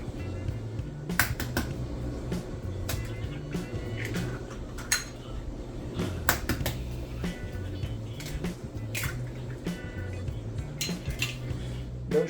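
Eggs cracked open into a bowl in a home kitchen while making pork katsu, a cluster of sharp taps and clinks standing out now and then over a steady busy background of cooking clatter and rattling.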